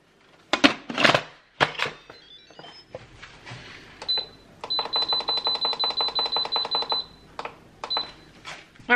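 An Instant Pot pressure cooker timer beeps while chicken Alfredo cooks: a quick run of evenly spaced electronic beeps, preceded by clattering kitchen knocks and followed by a few more scattered clicks and beeps.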